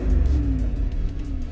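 A Trans Am, third generation, idling after a starter replacement: a steady, fairly quiet engine rumble with a low drone, running on its own with no talk.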